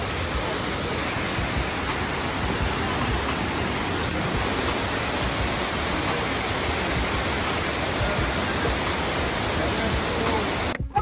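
A waterfall on a walking trail in Taiwan gives a loud, continuous broadband roar, steady throughout without pauses and heard up close, with no voices.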